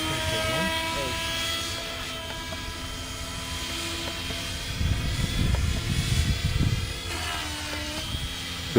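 A Trex 550 DFC RC helicopter with an HC-3X flybarless controller flies with its rotor head spinning, a whining turbine-like drone whose pitch shifts and dips as head speed falls, while people talk nearby.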